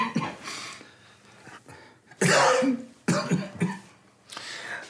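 A patient coughs several times in a medical exam room, with harsh, close bursts and throat-clearing separated by brief pauses.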